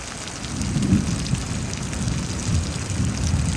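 Steady rain falling through a thunderstorm in Houston, Texas, with low rumbles of thunder rolling underneath, a continuous wash of rainfall holding fairly loud throughout.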